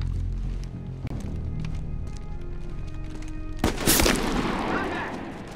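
Sniper gunfire in the video game Medal of Honor Warfighter, with a steady rumble of battle ambience broken by a loud, sharp shot and its echoing crack near the end.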